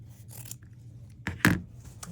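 Scissors snip through sewn fabric lining, trimming the corners about a quarter inch from the seam; a couple of close, crisp cuts stand out over quiet room noise, the strongest one a sharp rasping snip.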